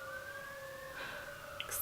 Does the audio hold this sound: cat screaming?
no